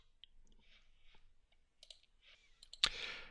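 Mouse clicks while trimming shapes in Vectric Aspire CNC design software: a few soft, faint clicks scattered through near silence, ending in one sharper, louder click.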